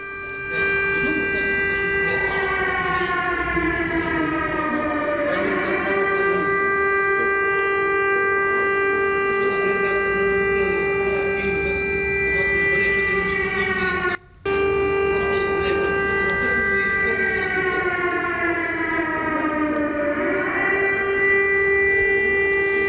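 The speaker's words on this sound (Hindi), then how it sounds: "राजधानी कीव, सायरन सुनिए जरा।" A loud air raid siren in Kyiv wails during the Russia-Ukraine war, its tone slowly rising and falling in long sweeping cycles, broken by one brief cutout midway.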